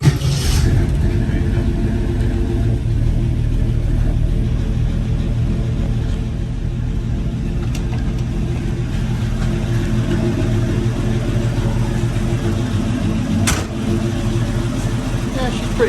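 A vintage Ford Falcon straight-six with a Flowmaster muffler idles in a steady, loud low rumble. Its exhaust note holds fairly even throughout, with a slight lift early on and near the end as the throttle is blipped.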